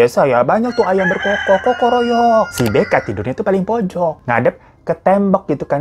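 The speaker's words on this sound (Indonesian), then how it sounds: "Namanya juga di desa ya, banyak tuh ayam berkokok, kokoroyok." A rooster crows in a village, loud and close, with a drawn-out crow near the start while a person talks over and after it.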